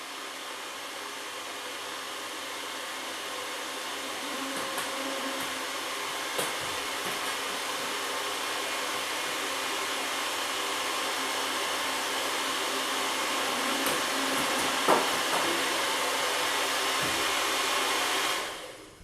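A hair dryer runs steadily with a constant high airy whoosh, close and loud, for nearly the whole stretch before cutting off abruptly at the end.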